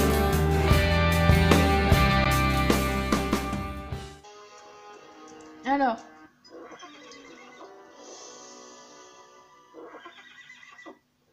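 A horse in the Alexandra Ledermann video game gives a short neigh partway through, after game music ends, followed by quieter ambient game sounds.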